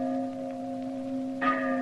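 The Liberty Bell rings with a sustained, resonant tone and steady overtones, then a fresh strike swells the sound near the end, clear and moderately loud with no talking.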